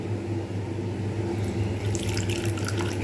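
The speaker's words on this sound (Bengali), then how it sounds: "এবারে এতে একটু জল মিশিয়ে দেবো" Water poured into hot oil with frying spices makes a steady loud hiss and sizzle, with bubbling crackle rising toward the end.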